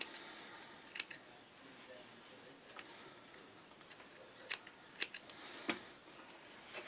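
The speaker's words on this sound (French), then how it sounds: "il faut que je découpe juste un tout petit peu. Pour venir couper." Scissors snipping through fabric surplus on patchwork Christmas blocks: sparse, crisp snips and clicks at close range, a few isolated cuts spread over a quiet background.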